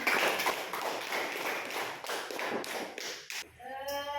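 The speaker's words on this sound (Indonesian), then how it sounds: "tepuk tangan dulu buat teman-temannya" Students in a classroom clap for their classmates, a dense patter of many hands at moderate level that thins out before a voice begins speaking at the end.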